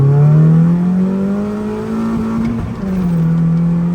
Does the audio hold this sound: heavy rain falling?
no